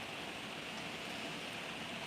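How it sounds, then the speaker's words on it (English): Constant soft rain hiss, an even broadband wash with no breaks or distinct drops, heard alone without any voices. "you can hear the rain. It's very peaceful."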